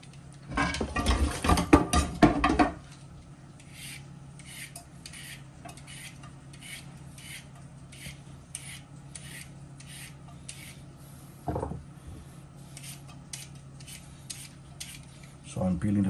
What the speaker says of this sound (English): So I'm peeling the carrots and the potato.